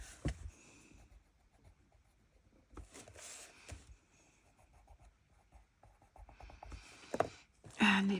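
Scratchy strokes of a white watercolor pencil colouring flowers on paper, faint and close, coming in short bursts separated by quiet pauses.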